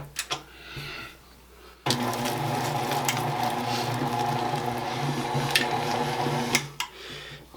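Electric stand mixer churning sliced almonds into thick biscotti dough, starting abruptly after a short quiet moment and running as a steady motor whir with rhythmic thumping of the dough for several seconds before stopping.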